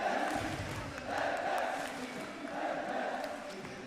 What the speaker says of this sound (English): Everyone's chanting Reckless as he is 3-0-3.